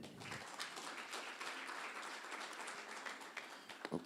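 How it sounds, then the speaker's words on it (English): A lecture audience claps steadily for a presenter at a university spring lecture event, dense applause holding for about four seconds before tapering off. "A round of applause for her"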